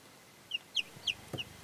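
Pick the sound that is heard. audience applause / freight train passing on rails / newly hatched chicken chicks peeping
newly hatched chicken chicks peeping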